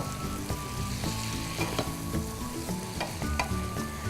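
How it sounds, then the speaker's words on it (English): Vegetables for vegetarian Ipoh curry mee are stirred in a pan, a steady sizzle running underneath as a utensil scrapes and taps the pan in an irregular rhythm. "Now mix it really well."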